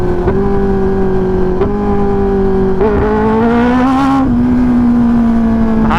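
Kawasaki Ninja ZX10R 2024 superbike with a loud exhaust, revving hard on a downshift: a steady high engine drone with sharp blips and a rising surge, close and loud with no talk.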